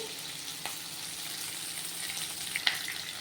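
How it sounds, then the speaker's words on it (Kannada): Tomato paste is added to frying chilli chicken masala in a pan, giving a steady, quiet sizzle with a couple of tiny clicks of a utensil near the end and no talk. "ಇದಕ್ಕೆ ನಾನು ಇವಾಗ ಟೊಮೆಟೊ ಪೇಸ್ಟ್ ಹಾಕ್ಕೊತಾ ಇದ್ದೀನಿ."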